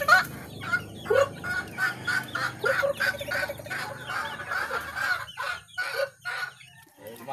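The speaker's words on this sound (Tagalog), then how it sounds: "Nakawala yung mga manok." Loose chickens cluck and squawk repeatedly at close range, a busy stream of overlapping clucks and short cries with a crowing-like call among them, and no talking.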